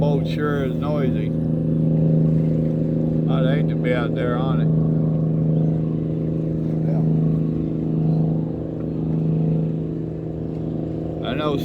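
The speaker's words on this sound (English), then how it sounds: "that little boat sure is noisy." A small, noisy motorboat engine drones steadily at a distance across the water, a constant low hum running throughout while people talk over it at intervals.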